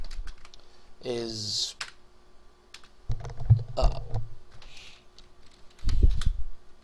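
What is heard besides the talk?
typing on a computer keyboard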